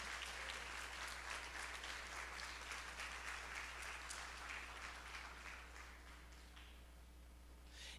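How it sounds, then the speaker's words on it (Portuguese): A church congregation at a Sunday family service applauds the Lord, a dense, even roll of many clapping hands heard from some distance, easing slightly toward the end over a low steady hum. "você aplauda ao Senhor em nome de Jesus"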